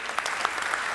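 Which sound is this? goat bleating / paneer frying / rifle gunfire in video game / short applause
short applause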